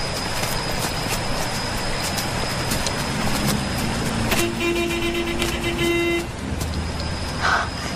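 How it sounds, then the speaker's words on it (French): A car horn sounds once in a steady, held blast of nearly two seconds over a constant traffic rumble, within a French horror film. "C'est un klaxon!"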